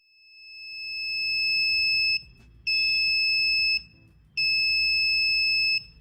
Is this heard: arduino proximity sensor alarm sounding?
yes